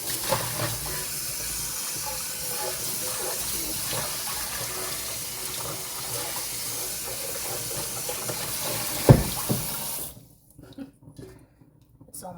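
Water pours from a kitchen tap while dishes are washed, a steady hiss with a sharp clatter near the end before the flow shuts off, leaving quiet scattered handling noises.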